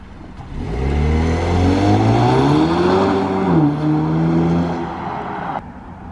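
2017 Chevrolet Camaro launching hard, its engine revving up loud and close in a rising roar that holds, dips with a gear change and then cuts off.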